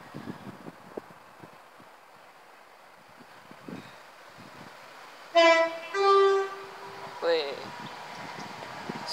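A Class 170 diesel unit, 170208 on a Greater Anglia Ipswich to Cambridge service, approaches Stowmarket station with a low rumble and sounds a two-tone horn in several loud blasts over wind noise, with someone talking.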